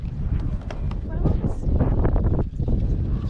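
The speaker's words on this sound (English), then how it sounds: "So it's windy," Wind buffeting a microphone on a chairlift at Monarch Mountain ski area on a snowy day, a loud steady low roar that continues throughout while a person talks over it.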